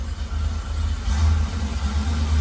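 A big block Camaro engine rumbles steadily while the car backs up toward a shop door, a deep, loud, continuous idle that rises slightly partway through, with no voices.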